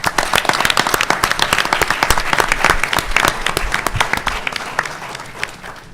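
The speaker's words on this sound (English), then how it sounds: "Let's give the Congressman another round of applause." A conference audience gives a Congressman a round of applause, a strong, dense clapping crowd sustained for several seconds before gradually thinning out.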